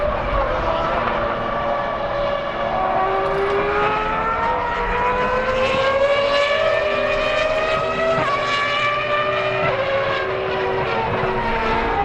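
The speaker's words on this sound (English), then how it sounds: "Hearing the 2003 V10 or 2000 V12 Ferrari F1 car on track is something you cannot appreciate until you hear it and see it in person." A Ferrari Formula 1 car, a 2003 V10 or 2000 V12, on track at the Ferrari Finali Mondiali, gives a continuous high-pitched engine wail with rising and falling revs, loud and steady throughout.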